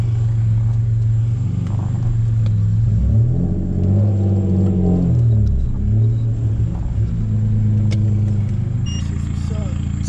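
A deep, throaty car engine rumbles close by, revving up and down in a couple of swells before settling into a loud idle.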